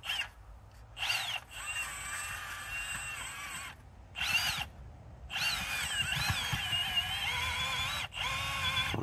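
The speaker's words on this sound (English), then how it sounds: "Go ahead and auger in deep as we can" A cordless hole auger bores into rocky soil, its motor whining in several bursts of rising and steady pitch separated by short pauses, with grinding and scraping against dirt and stones.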